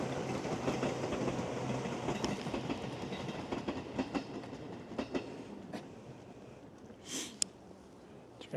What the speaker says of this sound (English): Did you guys see the choo-choo?